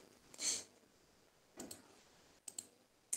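Sparse computer keyboard clicks as Bangla text is typed in AutoCAD: a few quiet, separate keystroke taps spaced out over a few seconds, with no talking.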